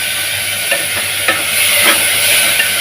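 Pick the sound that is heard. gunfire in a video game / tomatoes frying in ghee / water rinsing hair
tomatoes frying in ghee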